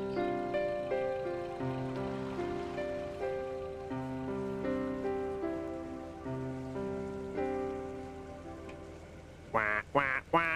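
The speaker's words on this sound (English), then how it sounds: "Quack, quack, quack, quack." Gentle music plays for most of the stretch, then a few loud, close duck quacks break in at the very end.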